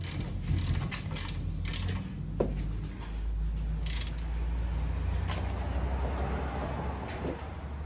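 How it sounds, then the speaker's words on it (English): A large ratchet tightening the outer tie rod on a Toyota Prius, heard up close as steady creaking, clicking mechanical turns with a low background rumble. "Got a big ratchet right here."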